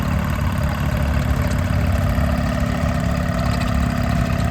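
A 1938 Allis-Chalmers Model B tractor engine runs at a steady idle during a parade of power, giving a continuous low, throbbing chug with rough mechanical rattle, close and unbroken throughout.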